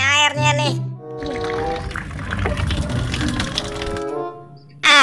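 Water gushing and pouring steadily into a bath for a few seconds, with a voice speaking before and after the flow.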